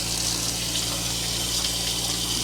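Water runs steadily into a container in a bathroom during a sewer backup, a continuous broadband rushing with a low pump-like hum beneath, moderately loud and unbroken with no talking.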